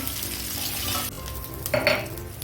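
Food frying in hot oil with a steady sizzle, then pieces being lifted out, marked by a brief clatter of a utensil against the pan near the end; no talking.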